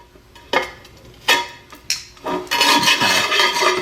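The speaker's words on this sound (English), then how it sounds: "I'm going to use these nippers right here. Just going to grab the ends and just kind of pop that off." Tile nippers snapping and scraping grout off the edges of popped floor tiles: a few sharp ceramic cracks and clinks, then a continuous close, gritty scraping.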